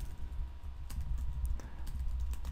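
Keys clatter on a computer keyboard as text is typed into a web design program, a steady run of close, crisp clicks with no talking.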